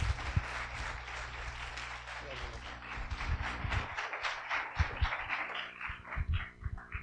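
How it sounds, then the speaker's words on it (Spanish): An audience at a Spanish-language animation production lecture applauds steadily, a dense wash of clapping that continues with some louder close claps throughout. "Vamos a darle un fuerte aplauso, por favor."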